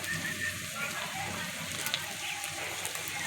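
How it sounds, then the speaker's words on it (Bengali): Cut potato pieces frying in a pan while being turned with a spatula, giving a steady low sizzle with a faint scrape or two, heard fairly close and without talk. "আলুগুলোকে কেটে নিয়েছি খুন্তির সাহায্যে একটু ভেজে নিচ্ছি"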